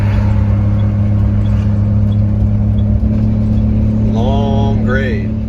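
A motorhome's engine drones steadily in fourth gear while climbing a long grade, a constant low rumble with a faint whine throughout, briefly joined by a higher tonal squeal near the end.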